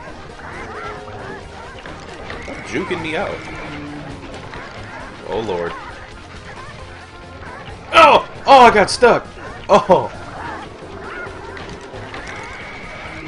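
Chickens squawking in the game Sly Cooper, a few short clustered bursts of loud clucking, with a player exclaiming over it.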